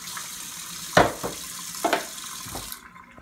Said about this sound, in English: Turn your water on